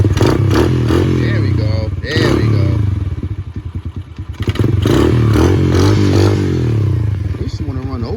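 A pit bike engine idles and stutters close by, its uneven putter dipping and recovering, with the choke partly set and gas leaking from the carburetor; someone talks briefly over it.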